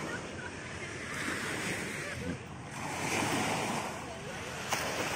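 Sea waves wash in steadily at Sariaya beach, a broad continuous surf roar with gentle swells in loudness and some wind buffeting the microphone, with no voices.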